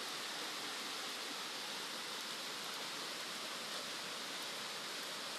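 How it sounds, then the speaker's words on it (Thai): Heavy overnight rain pours down at a rural Thai home, a steady, dense broadband hiss that stays even and unbroken throughout, with no voices over it. "จะไปทางไหนก็ไปไม่ได้ฝนตกติดฝน"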